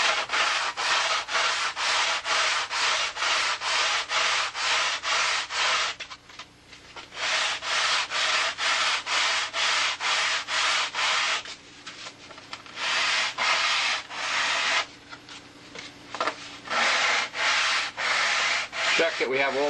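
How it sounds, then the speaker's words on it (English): A belt sander works a wooden piece in a woodshop, making loud rhythmic rasping strokes in quick repeated passes, pausing briefly twice before resuming, with no talking. "next step is when I get out the sanding belt."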